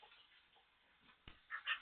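A pitbull gives a couple of faint, brief whimpering sounds near the end against a quiet, muffled background.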